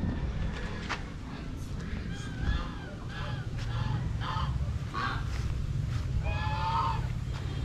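White turkeys on a farm call repeatedly in short, nasal honking bursts, several birds close by, with steady background noise throughout.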